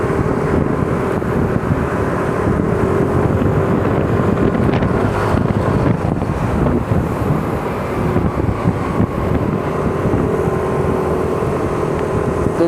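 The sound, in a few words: strong wind blowing at flyover height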